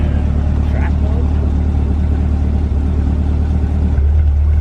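A stock valved exhaust in track mode roars loudly as the car revs, with a deep sustained engine rumble that stays close and heavy, while people talk over it.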